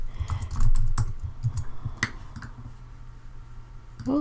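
Quick, light keystrokes tapped on a computer keyboard, close and fairly soft, in short uneven bursts.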